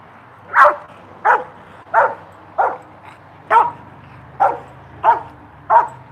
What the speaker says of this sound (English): the dog should reattack automatically, no commands needed